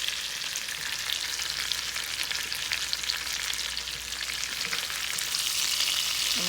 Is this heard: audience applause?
no